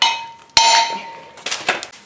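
A hammer strikes a brake rotor on a 1995-97 Ford F-250 behind-hub assembly to knock it loose, two sharp metallic clangs with ringing tails, then a few lighter knocks.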